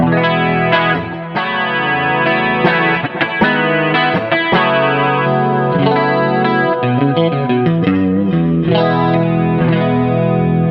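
An electric guitar plays chords and picked notes through chorus and echoing delay, with a shimmering, slightly overdriven tone and no voices.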